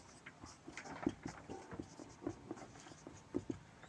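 Pen writing by hand on paper during a math lesson: faint, close scratches and taps in an irregular rhythm, with soft clicks at the stroke ends and no talk over them.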